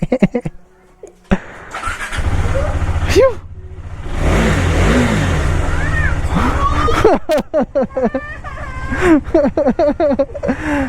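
A KTM Duke 390 motorcycle engine cranks, fires and idles with a steady rumble, punctuated by sharp throttle blips and revving bursts near the end, while people chatter and laugh over it.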